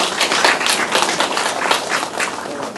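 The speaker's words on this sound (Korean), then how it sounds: "박수 한번 넣어주십시오." Dense audience applause at a Korean author's talk event, many hands clapping steadily and close together for the whole stretch, with no voices over it.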